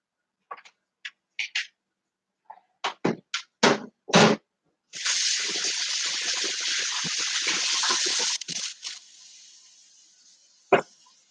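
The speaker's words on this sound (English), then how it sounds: "I will wash my hands." Hands being washed under a running kitchen tap, a steady broadband rush of water lasting about four seconds, preceded by scattered clinks and knocks and ending in a few drips and a final clunk.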